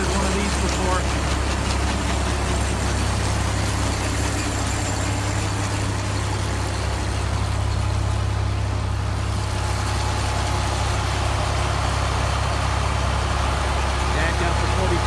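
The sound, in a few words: John Deere 4020 tractor engine running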